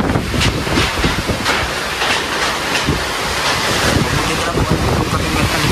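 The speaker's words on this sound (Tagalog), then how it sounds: "Grabe ang hangin." Strong typhoon wind battering the microphone, a loud, constant roar with gusty surges and rumbling buffeting that fills the whole scene.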